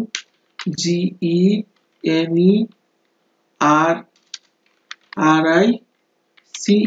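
Typing on a computer keyboard gives faint, sparse key clicks that fall in the gaps between a person's steady speech, which dominates throughout.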